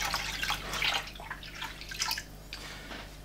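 Strained rosehip syrup liquid being poured back into a pan, faint splashing and trickling in irregular bursts that taper off, heard quietly with a low steady hum behind.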